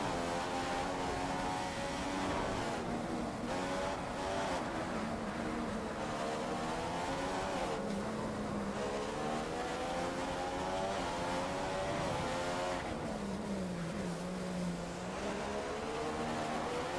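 An F1 race car engine in the F1 2015 video game at the Monaco Grand Prix, a loud, continuous high whine that rises and falls with gear changes through the corners, with no talking.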